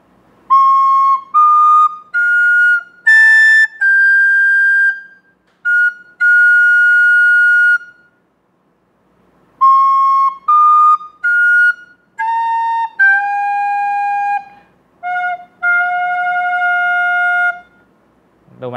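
Recorder playing the Thai royal anthem alone, a longer melodic passage of clean sustained and shorter notes in phrases with brief pauses, close and steady in loudness, no talking.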